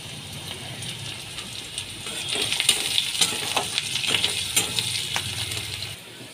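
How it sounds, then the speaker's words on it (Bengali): Chopped onions with salt, whole garam masala and dried red chillies fry in hot oil in a pan, a steady close sizzle that swells louder partway through, with small crackles and a few scraping stirs. "দুটো পেঁয়াজ কুচি দিয়ে দিচ্ছি, 1 চামচ নুন দিয়ে দিচ্ছি।"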